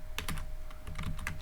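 Rapid keystrokes on a computer keyboard, a quick irregular run of clicks while code is typed, close up and fairly quiet with no speech over it.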